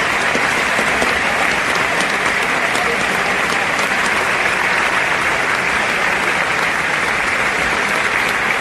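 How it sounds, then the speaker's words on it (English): Sustained, dense applause from a crowd fills the whole stretch at steady loudness, with no pauses or voices standing out. "give them a round of applause for what they do every day to keep us alive"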